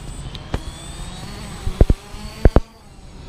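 Drone motors spinning up during a test flight, a rising whine with several sharp clicks and bumps as the rotors start, close and moderately loud against outdoor background noise.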